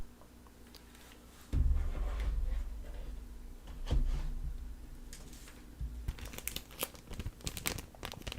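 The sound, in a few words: crinkling plastic container holding a cleaning cloth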